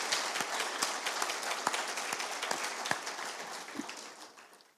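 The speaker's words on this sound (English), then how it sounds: "please give a big round of applause to CA Gaurav" An audience at a chartered accountants' annual general meeting applauds, with scattered distinct claps over a thinner crowd wash, moderately loud and gradually fading toward the end.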